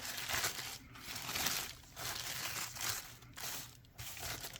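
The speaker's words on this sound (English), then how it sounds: "So I crumple up the tissue paper and then I set it aside." Sheets of tissue paper being crumpled by hand, giving close, dry crinkling and crushing bursts that swell and fade in several waves, with no talking.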